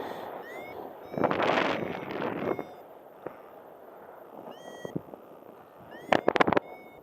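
Gusty wind buffets the microphone outdoors during a paragliding trip in France, with a strong rumbling burst early on and sharper gusts near the end, over a steady windy background and a few thin electronic beeps.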